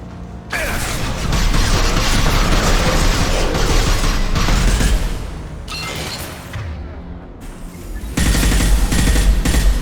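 A defensive turret in Mass Effect 2 fires sustained rapid automatic bursts with mechanical clatter and booming impacts, loud and close, broken by a brief lull before the fire resumes.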